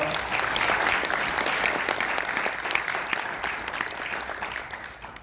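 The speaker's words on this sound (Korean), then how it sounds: "모두 함께 환영의 큰 박수 치도록 하겠습니다" Welcoming applause from delegates at the 70th general assembly of a regional Korean medicine doctors' association in Gyeongnam, a full room clapping steadily for several seconds and tapering slightly toward the end.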